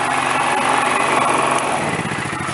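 A Honda inverter generator runs steadily at an off-grid power station, a loud, continuous high-pitched engine drone with a constant buzzing hum and no pauses.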